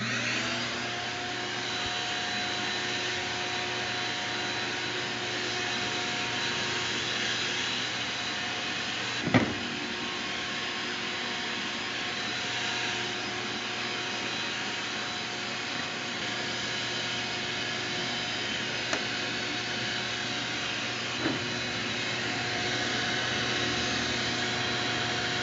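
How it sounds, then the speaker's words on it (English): A shop vacuum runs steadily as it cleans sawdust off a table saw, with a constant loud drone and a few brief knocks from the nozzle against the saw. "So be sure to check underneath when you're vacuuming and cleaning up, and vacuum any sawdust out"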